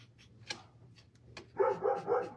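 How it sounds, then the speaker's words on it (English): A dog barks in a run of three or four close, loud barks near the end, after a few faint ticks and taps. "I'm sorry if he makes your dogs bark."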